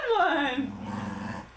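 A dog growls low and close over about a second and a half, a steady rumble with rising whiny tones at the start, while a person's voice seems to overlap it.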